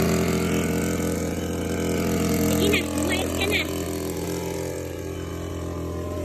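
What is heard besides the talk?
motorized sprayer engine running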